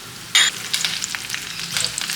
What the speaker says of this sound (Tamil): ஸோ இப்போ நம்ம ஹாட்டான ஆயிலில் தாளிக்கிற பொருள் கடுகு, வெந்தயம், வரமிளகா, பெருங்காயத்தூள், கருவேப்பிலை.